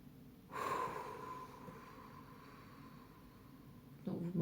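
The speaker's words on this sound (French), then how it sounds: "vous m'entendez souffler parce que voilà, l'énergie déployée est importante" Forceful breathing out during a wrist rehabilitation exercise: one long, close exhale with a harsh breathy rush, then quieter steady breath, and a second short burst of breath at the end.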